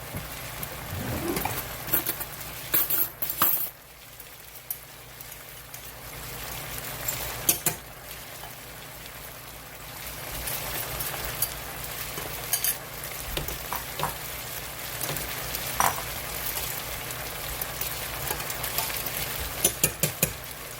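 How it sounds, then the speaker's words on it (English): Chicken broth in a pan on a stove burner sizzles and bubbles steadily at low level, with scattered clinks and scraping from stirring and handling, and no talking. "put it in this pan and put it on the burner and let it start to reduce"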